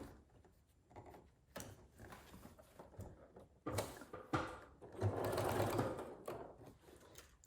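A sewing machine stitches an envelope pillow, its motor whirring in short runs that build to a louder sustained burst, with mechanical clicks between stitching spells, close by.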